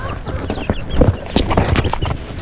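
Several chickens cluck and squawk close by in an irregular, busy chorus, with no talking over them.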